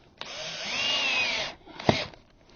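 A power drill drives stainless steel screws into a wooden baluster post, with one long steady whir of about 1.3 seconds followed by a shorter burst, both close and fairly loud.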